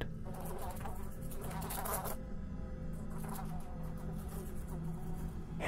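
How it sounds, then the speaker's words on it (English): A giant deep-toned fly buzzes continuously near the ceiling of a bedroom, a low droning hum that swells and fades as it circles. "The giant deep-toned fly buzz flying somewhere up near the ceiling."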